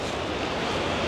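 Wind and choppy sea waves on the coast of Corsica, a dense continuous rushing roar with wind buffeting the microphone, loud and steady throughout.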